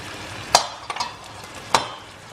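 Spice powders, including coriander powder, frying in oil in a pan for mutton biryani, with a couple of short scrapes and stirs and a faint steady sizzle underneath, close by.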